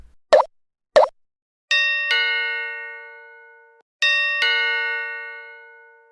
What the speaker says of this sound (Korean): 집 초인종이 울리기 시작했어요.